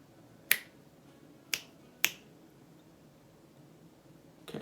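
Three sharp, close finger snaps at uneven gaps over a quiet background, recorded for a music track.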